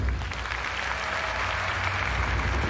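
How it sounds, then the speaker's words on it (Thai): A studio audience claps dense, sustained applause to welcome a guest on a Thai television show. It is loud and even throughout, with no break and no speech. "ขอเสียงปรบมือต้อนรับพี่ต๋องครับ"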